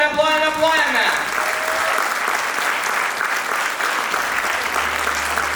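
Enthusiastic applause erupts at the 30th-anniversary concert of the Gargždai children's choir Klevelis. It rises as the last sustained musical notes fade and then continues steadily and loudly for several seconds, with crowd noise mixed in.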